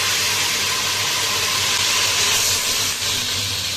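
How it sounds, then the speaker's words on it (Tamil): Curry leaves dropped into hot oil with popping mustard seeds give a loud, continuous hissing sizzle, close and steady throughout with no voice. "இப்போ நம்ம கருவேப்பிலை சேர்த்துக்கலாம்."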